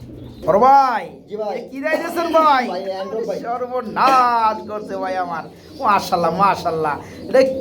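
Pigeons at a pigeon sale coo in repeated low, throaty phrases, fairly close and loud, with voices overlapping them throughout.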